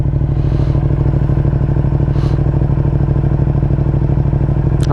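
Yamaha R7 motorcycle with a modified intake and flashed ECU idles steadily as it warms up, a loud close rumble with a fast even pulse and a couple of faint light clanks, no talking.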